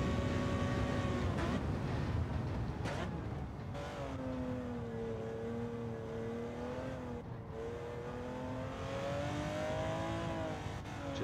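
A Porsche 917 race car in Gran Turismo 7 revs hard under throttle at Spa, a loud harmonic engine wail that dips and climbs again as it accelerates, with no talking.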